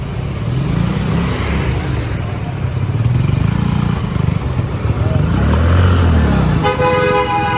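A motorcycle being ridden nearby, its engine droning steadily with rising and falling revs, fairly loud and continuous, ending with a brief horn-like tone.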